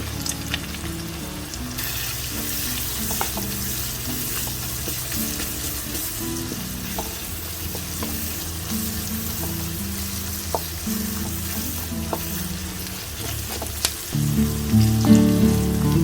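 Onions and a handful of cashews fry in a pan for paneer butter masala, a continuous close sizzle with occasional stirring, running under background music throughout.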